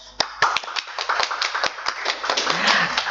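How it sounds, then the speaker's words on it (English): Applause from a small audience at a golf industry talk, starting with a few scattered claps and building into a fuller, continuous clapping over about three seconds. "Let's give him applause."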